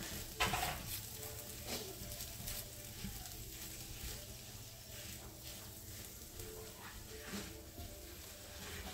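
Potatoes sizzling and frying in a pan, stirred and pushed around with steady crackling throughout and occasional scraping of the utensil against the pan.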